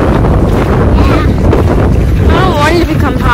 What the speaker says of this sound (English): So now the wind is blowing.